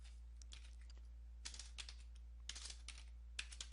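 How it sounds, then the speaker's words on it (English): Someone types a command on a computer keyboard during a fix for an ASUS boot loop, giving several quick, close clicking keystrokes in short bursts over a low steady hum. "Once you have done that, you want to type in MD"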